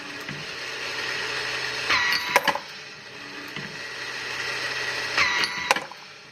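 A brass case annealer runs with .308 cases spinning in it, giving a steady mechanical whir and hum broken by a few sharp metallic clicks and clatters, close by and with no talk.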